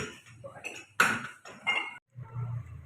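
A spoon stirs chopped tomatoes in a pot, giving a few close metallic clinks and scrapes against the pot in short bursts, with brief pauses between them.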